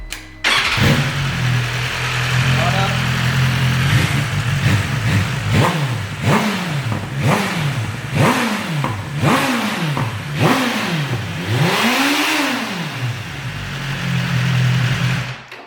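A BMW S1000RR sport motorcycle on its stock exhaust revved repeatedly while warm, a loud close idle rising into about eight quick throttle blips, each climbing and falling, the last one longest, then settling back to idle.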